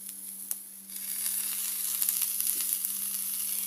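Drumstick leaves hit a hot frying pan and crackle into a steady sizzle that grows louder after the first second, with a few sharp pops.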